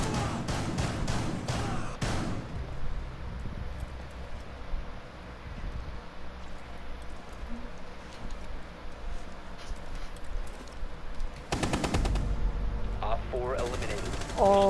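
Gunfire in the video game Rainbow Six Siege comes in rapid bursts of sharp shots, with a quick volley at the start and more shots near the end. Quieter stretches between them carry background game noise and some talk.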